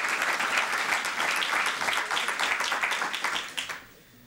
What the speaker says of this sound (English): it might be applause as they come up